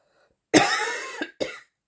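A single harsh cough followed by two short, sharp follow-up coughs, close and clear with silence around them.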